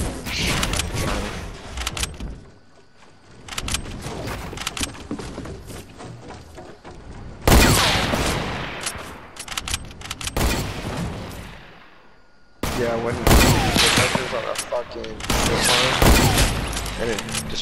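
Bursts of automatic gunfire from the Fortnite video game, several rapid volleys separated by quieter gaps, loud and close, with a voice talking between the shots.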